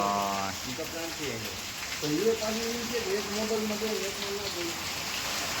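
Steady rain falls with gusting wind as a broad, constant hiss, while someone talks loudly and excitedly over it throughout.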